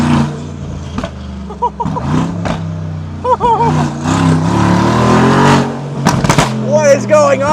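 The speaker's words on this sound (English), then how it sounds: "This is the loudest car I think I've ever driven." A loud, heavily upgraded G-Wagen being driven: close, aggressive engine revs rising and falling in repeated bursts with crackling pops, a voice reacting over the roar.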